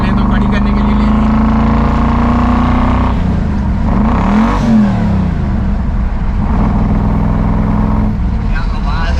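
Shelby GT500 Mustang Eleanor with side-exit exhausts revs loudly up close, its deep engine note rising and falling in several pulls while people talk over it.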